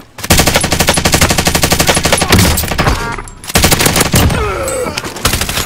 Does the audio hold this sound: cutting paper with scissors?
no